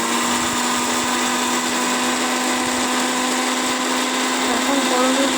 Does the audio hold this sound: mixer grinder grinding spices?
yes